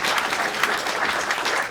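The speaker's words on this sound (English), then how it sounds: "we want to give yourselves a round of applause for sitting here for 2 hours" Audience applause closing a two-hour evening event, a dense, even patter of many hands clapping together, loud and close, steady throughout the short stretch.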